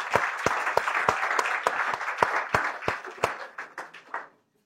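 A church congregation applauds, a brisk run of rhythmic, fairly even claps close by that gradually slows and fades out at the end.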